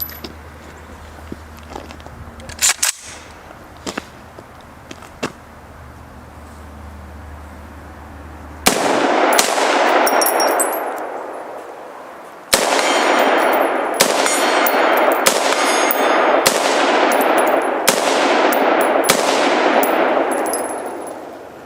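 An AR-15 rifle fires shots at steel target plates, each impact ringing back as a metallic clang; quieter scattered hits come first, then a loud rapid string of shots with ringing pings, outdoors.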